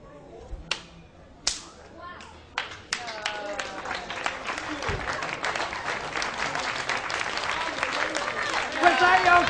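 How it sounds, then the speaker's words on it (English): Thunderous applause from an audience after a magic act: a few scattered claps at first, then dense, sustained clapping that builds and grows louder to the end. "Back up, thunderous applause, exit"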